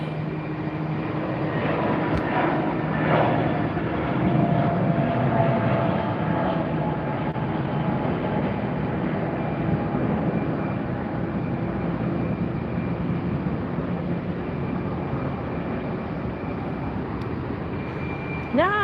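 An airplane departing Tampa airport, a steady broadband engine roar holding at a constant level throughout, with a faint rising tonal whine and no voices.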